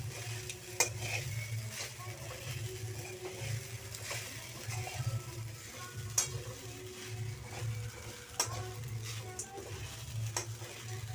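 A spoon stirs sabudana khichdi mixed with peanut powder in a pan. Close scraping strokes and soft clinks against the metal repeat over a faint sizzle, with no voices.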